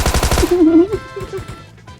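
A short burst of rapid pistol gunfire in PUBG Mobile opens, then cuts out as a voice speaks over faint game sounds.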